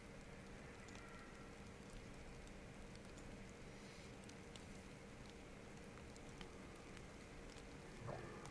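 Steady rain patters outside in DayZ, a dense even hiss of drops on surfaces running throughout at low level, with no voices over it.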